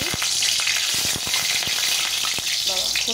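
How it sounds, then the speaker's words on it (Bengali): Pointed gourd pieces fry in very hot oil in a wok, a loud, constant sizzle broken by several sharp spatters and clicks from stirring, with no talking. "বাবা, কড়াইয়ের মধ্যে জল ছিল।"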